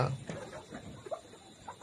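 Twenty-week-old layer pullets on a farm give a few faint, soft clucks and short calls, fairly distant and sparse across a brief moment.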